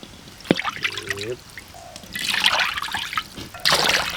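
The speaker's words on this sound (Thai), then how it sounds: "ใส่น้ำแกงก่อน" Soup broth poured into a pot on an outdoor jungle kitchen stove, a close trickling and splashing stream that comes in bursts, with a brief clunk of the pot and short pauses between pours.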